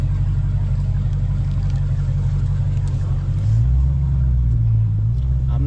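A 2019 Dodge Challenger ScatPack with a newly installed tune rumbles along a street, its deep engine drone steady and loud, swelling slightly near the end as it picks up pace.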